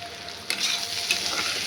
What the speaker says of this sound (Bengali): এবার পেঁয়াজটা ভাজছি।